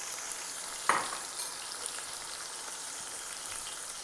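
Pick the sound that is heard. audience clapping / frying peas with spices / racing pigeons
frying peas with spices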